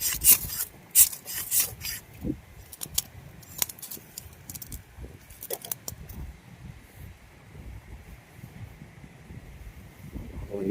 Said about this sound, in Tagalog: pinangkakaskas ko lang yung ito, yung folding saw natin na silky gamboy